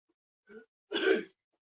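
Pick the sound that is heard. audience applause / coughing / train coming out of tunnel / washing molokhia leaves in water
coughing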